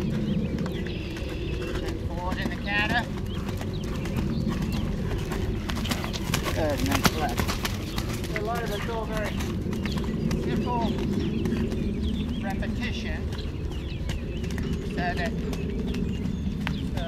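Horse cantering under a rider in a schooling session, with hoofbeats steady and rhythmic against a constant background murmur, some birds faintly audible throughout.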